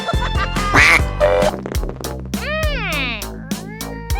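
A cartoon duck quacks in a quick run of sharp, bright calls, loud and close, with sliding cartoon sound effects and a steady backing beat.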